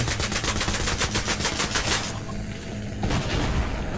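Rapid machine-gun fire from Battlefield 3 rattles in a fast, regular stream of shots for about two seconds, then fades into quieter background noise before scattered bursts return.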